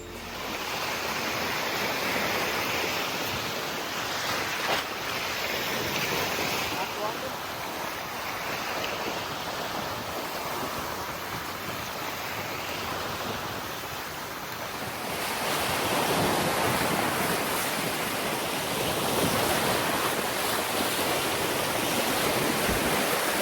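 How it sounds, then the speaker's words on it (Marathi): Lake waves colliding from opposite directions at Needle Point in Point Pelee National Park, Canada, make a loud, continuous surf roar mixed with gusty wind buffeting the microphone, swelling louder toward the end. "या ठिकाणी येणाऱ्या पाण्याच्या लाटा ज्या विरुद्ध दिशेने येतात आणि एकमेकांना टक्कर मारतात"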